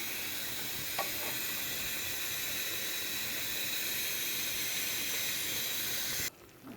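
A covered pot of okra, Malabar spinach, potato and hilsa simmers on the stove with a steady, even sizzling hiss that holds for about six seconds and then cuts off abruptly.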